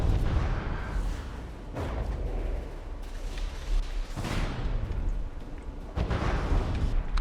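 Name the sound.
warship gun and missile fire in From The Depths video game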